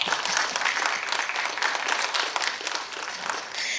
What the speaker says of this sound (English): I'd like to give a round of applause to all the cadets who made it a state.